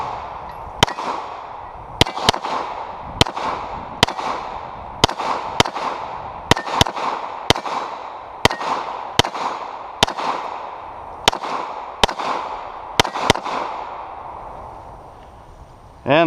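Repeated pistol shots from a Century Arms Canik TP9SA handgun, about fifteen sharp cracks fired in a quick, uneven string over sixteen seconds, loud and close with ringing decay between them and no talk.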